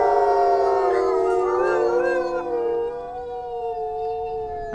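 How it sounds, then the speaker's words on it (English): Dogs howl together indoors, several loud, overlapping voices that rise and waver in long sustained tones, close to the listener, with no talking. "Oh goodness, my dogs are popping off."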